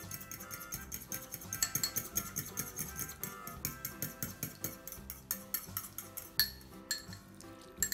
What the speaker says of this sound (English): And we mix it.